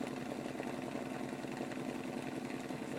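An engine runs at steady speed, giving a continuous buzzing drone with a fixed tonal hum and a rough, even texture throughout, fairly faint and with no voices over it.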